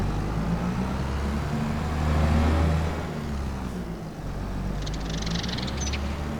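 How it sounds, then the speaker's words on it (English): Tractor engine driving in Farming Simulator 25: a steady, loud low rumble that swells briefly before settling back to an even drone, with no voices. "Lovely tractor this."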